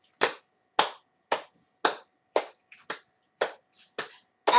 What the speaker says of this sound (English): Let's start our pat clap.